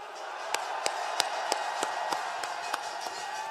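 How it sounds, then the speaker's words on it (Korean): At a political rally, a crowd claps in slow, evenly spaced, hall-echoed beats over a constant crowd murmur, sounding more like rhythmic unison clapping than a burst of applause. "뜨거운 박수를 한번 보내주십시오"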